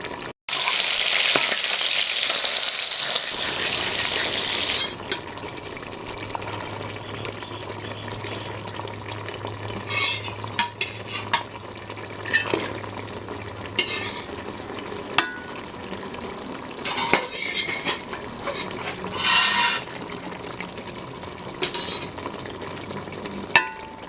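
Fish and vegetable curry with potatoes cooks in a pot, starting with a loud rush of sizzle and liquid. A softer simmer follows, broken by repeated sharp scrapes and clacks of a spoon stirring, with no speech.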